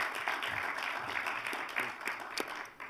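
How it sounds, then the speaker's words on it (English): An audience at a conference on African financial reform applauds steadily, fairly faint hand clapping that continues throughout with a few sharper claps standing out. "Let's give Hassatu a round of applause"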